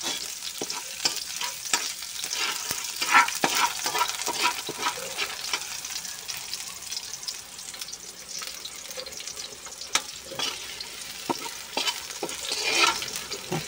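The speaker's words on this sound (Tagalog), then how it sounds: "Pulahin lang natin ng sibuyas at ang loya" Onion and ginger frying in a pan for chicken adobo, a steady sizzle with frequent stirring scrapes and clinks, close and continuous with no voices.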